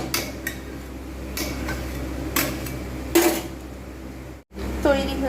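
A pot of mixed vegetable dal being stirred and boiled on the stove, with a few clanking knocks of a spoon against the pot at irregular intervals over a steady low background hiss.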